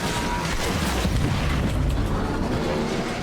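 A Tycho Seeker weapon fires at an enemy fighter during a Railjack space battle in the game Warframe, giving a heavy booming blast with a rolling, rumbling tail that fills the clip.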